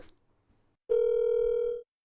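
A telephone ringback tone on an outgoing call sounds once as a steady, clear electronic burr lasting almost a second, close and alone after a brief faint rustle.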